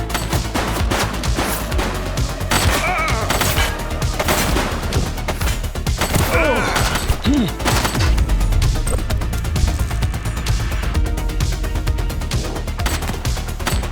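A sustained police gunfight in a cop game, with loud continuous bursts of gunfire and occasional heavier crashes running through the whole stretch under a dense, busy wash of noise, and no talking.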